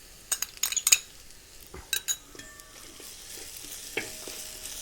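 Crushed ginger and garlic added to sautéed onions in a pan for a prawn dish, with several quick clattering stirs and clinks of a utensil over a steady close sizzle of frying.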